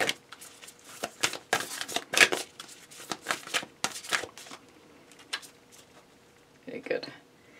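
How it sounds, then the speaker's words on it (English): Repeated crisp riffling bursts of playing cards being shuffled Vegas-style, several quick flurries in a row, fairly close, with quieter handling sounds between them. "Get a good Vegas shuffle in here."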